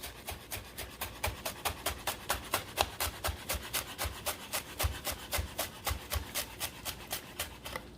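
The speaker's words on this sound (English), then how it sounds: "I'm gonna do a big fancy cooking word, a chiffonade, where I roll it, and I cut it into little strips" Knife slicing rolled herb leaves into thin strips on a cutting board, a steady run of quick crisp chops repeating about three or four times a second, close and fairly quiet with no talk.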